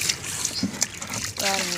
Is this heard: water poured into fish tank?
yes